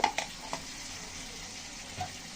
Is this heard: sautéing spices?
yes